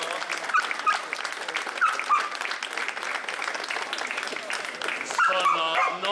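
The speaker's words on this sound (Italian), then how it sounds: "Un fortissimo applauso ai ragazzi del comitato che veramente hanno lavorato." Crowd applause at the opening of the San Giorgio 2013 festivities in Italy, applauding the organising committee; steady clapping fills the clip, with dogs barking and yipping in the mix and some talk underneath.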